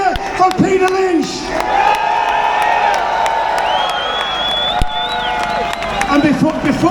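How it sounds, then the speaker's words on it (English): A crowd of marchers in Whitehall cheers and whoops in a loose roar of voices with some whistling and shouts, lively and fairly close, lasting several seconds. "Let's have a massive cheer for Peter Lynch."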